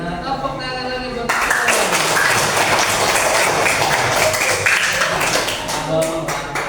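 Children in a classroom clap their hands together in a burst that starts suddenly after a teacher's voice and continues as a dense, close patter, tapering with talk resuming at the end.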